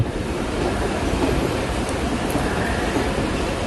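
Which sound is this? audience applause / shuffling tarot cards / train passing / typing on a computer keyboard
train passing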